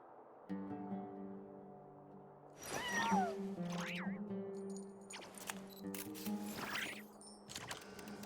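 A cat in the video game Genshin Impact lets out a couple of short rising meows over a quiet game music bed, followed by scattered light effects.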